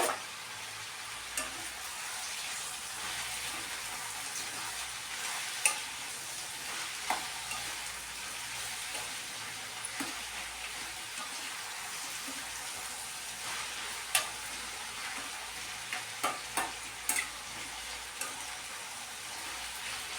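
Bottle gourd pieces with turmeric and salt are stirred as they fry in a pan, giving a soft continuous sizzle with occasional scraping clicks from the spoon, fairly quiet and close, no talking.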